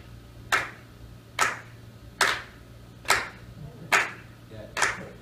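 Slow, evenly spaced hand claps at a live music show at The Hearthstone in Seattle, keeping time for a song. Six distinct, fairly close claps land about a second apart over a low background hum.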